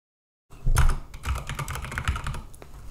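Fingers tap out a name on a computer keyboard, a quick close run of key clicks that starts abruptly after a moment of silence.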